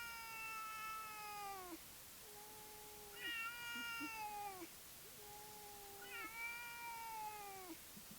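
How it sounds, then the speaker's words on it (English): A cat gives long, drawn-out caterwauling meows, repeated three times with clear harmonic wails and a faint echo, fairly quiet and without talk. "I think there's another cat in this video"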